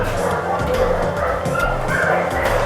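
Dogs at an animal refuge give a few short, close barks and yips in quick succession over a dense background of kennel noise.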